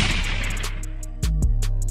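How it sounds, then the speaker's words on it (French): Gunshots ring out in a private forest, two sharp, loud reports about a fifth of a second apart, each followed by a short echo, after a brief rushing noise. "un coup de feu retentit"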